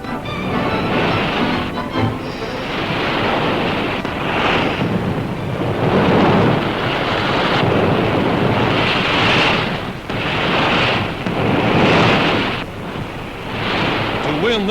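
Ocean breakers roll in with broad, loud rushing surf and strong wind buffeting the microphone as surfers ride rubber surfboards at a 1943 aquatic contest, the roar swelling and easing in waves with no voices.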